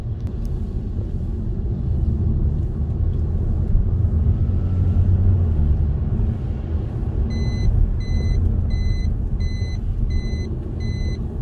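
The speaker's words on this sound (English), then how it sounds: "So that's my warning indicator on my TPMS tire pressure." A car's TPMS tire pressure warning chimes in a quick, even series of about eight bright electronic beeps late on. Steady engine and road rumble runs under it on a drive up to Genting.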